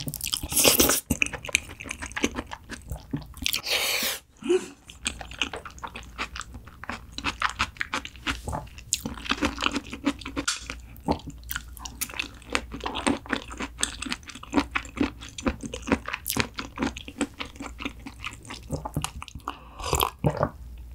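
Close-up chewing and biting of spicy cream Neoguri ramyun noodles and salmon sushi, with steady wet crunches, slurps and mouth sounds filling the whole stretch, one louder burst near the start and no talking.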